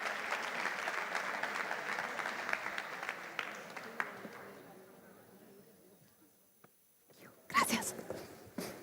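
Conference audience applauding at a homelessness care event, a broad wash of clapping that gradually fades to near silence, followed by a loud brief clatter of handling noise near the end.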